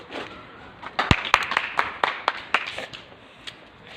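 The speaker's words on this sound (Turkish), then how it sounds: "Buradan Emir abimize bir alkış" Scattered clapping for Emir, a goalkeeper among friends, with a handful of sharp, uneven claps over quiet room noise rather than full applause.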